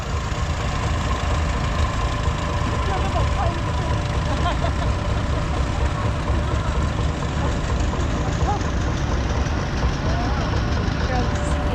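A styled Allis-Chalmers WC tractor built in West Allis, Wisconsin, runs past in a threshing show parade, its engine a continuous low, chugging rumble with steady loudness throughout, while a voice talks over it.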